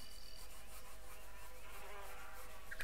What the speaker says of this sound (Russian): Как ни странно, даже вот это жужжание подходит.